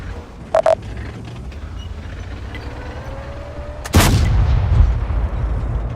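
Artillery shot in the World of Tanks game: a single heavy boom about two-thirds through, loud and close, followed by a rumbling tail, preceded by a faint whistle and two brief clicks.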